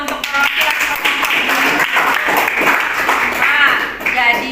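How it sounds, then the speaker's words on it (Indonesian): A classroom bursts into brief, dense applause for a student group, many hands clapping loudly and close with some voices mixed in. "Tepuk tangan dulu untuk perwakilan kelompok."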